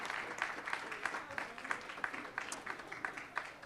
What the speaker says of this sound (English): How about a round of applause for Butler and Wilson, our #1 team.